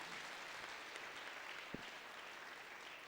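A church congregation claps for the Lord during a worship service, a faint, dense and steady patter of many hands heard from a distance, with no voices over it.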